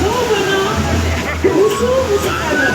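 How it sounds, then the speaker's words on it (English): Devi's Fall in Pokhara during the rainy season, a steady rushing wash of waterfall and flowing water, with people talking nearby over the roar. "the sound of this waterfall and the flow of water are breathtaking"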